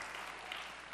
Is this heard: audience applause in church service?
yes